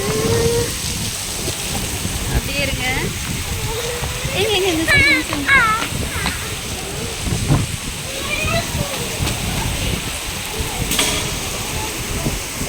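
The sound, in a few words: heavy rain with strong wind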